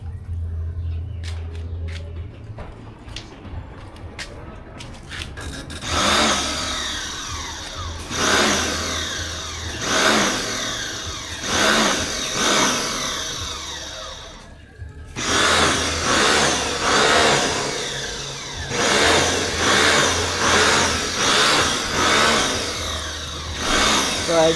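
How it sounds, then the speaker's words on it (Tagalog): A G8 Turbo power sprayer engine runs close by, rising and falling in repeated revving surges with a sputtering start-up before them; a voice talks briefly over it. "So ayan yung ating G8 Turbo, yung ating update. So ayan mga Lodi, buhay pa yung ating power sprayer. Gumagana pa."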